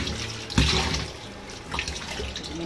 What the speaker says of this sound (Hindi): इसको 2 पानी से और धोएंगे